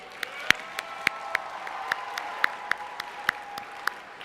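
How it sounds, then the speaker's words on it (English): Scattered clapping from a small crowd at a state career development conference, rewarding the state officer team with a dozen or so sharp, separate claps spaced at a steady loose rhythm, fairly close and alone. "Can we please get a round of applause for Emily Stando and the rest of your state officer team?"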